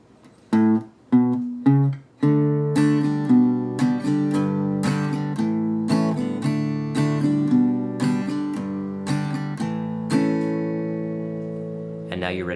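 Acoustic guitar playing a song with a little bass line, a few separate plucked strums at first, then steady strummed chords with moving bass notes, close and alone.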